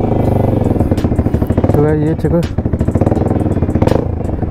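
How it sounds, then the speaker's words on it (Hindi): Bajaj Pulsar NS200 motorcycle fitted with an Akrapovic exhaust and a changed bend pipe, engine running close and loud with a rapid, crackling exhaust beat and a short rev midway, while someone talks over it. "तो साउंड देखो गाइस अभी थोड़ा चेंज हो चुका है अपना बाइक का"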